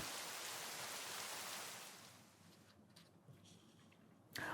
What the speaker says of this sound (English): From my window, I can hear the rain thrashing down.